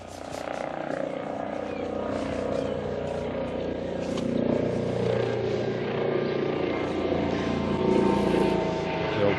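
A helicopter passing overhead above an allotment garden, a loud sustained rotor drone that swells toward the end, with a voice talking over it.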